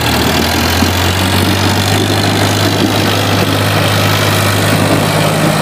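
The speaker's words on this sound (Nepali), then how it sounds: "ट्र्याक्टर यहाँ पनि चढ्न गाह्रो मानेको होइन, त्यसले टु गियरमै लिएर आयो नि." A tractor in second gear climbs a slope on a road under construction, its engine a loud, steady, unbroken drone throughout with no talking.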